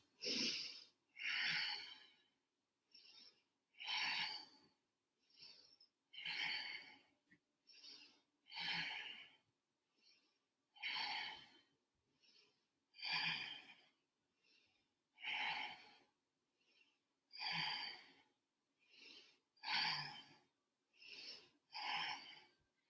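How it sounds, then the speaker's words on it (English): Deep breathing during an elbow plank in a yoga session for cyclists: a long series of slow, hissing inhales and exhales, quiet and close, evenly paced. "taking 10 really deep breaths"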